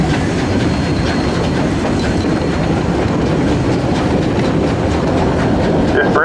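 A Chama narrow-gauge train rolls across the Lobato Trestle, an 1880s bridge, with a loud steady rumble and clatter of wheels close by throughout.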